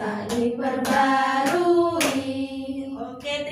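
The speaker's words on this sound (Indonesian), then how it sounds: "tepuk tangan untuk kita semua" Classroom of schoolchildren applauding together after a lesson, a close burst of clapping mixed with children's voices and cheering over a few seconds.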